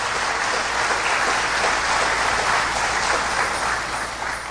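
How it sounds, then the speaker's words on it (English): Sustained applause from a large crowd, loud and steady throughout, dense clapping with no pauses, tapering slightly at the end. "Give them a resounding round of applause."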